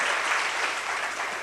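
A church congregation claps together in praise of God: a dense, steady burst of many hands clapping, loud and close, with no voices over it.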